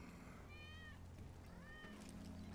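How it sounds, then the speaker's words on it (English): Wedge's cat meowing in Final Fantasy VII Remake, two soft, faint meows spaced about a second apart over a steady background of game ambience and music. "That's Wedge's cat."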